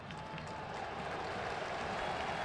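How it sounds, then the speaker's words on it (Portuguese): Steady, distant crowd noise with scattered applause rolling through a large football stadium during a Brazilian league match, continuous and fairly faint throughout. "O torcedor aplaude a ação ofensiva do Grêmio."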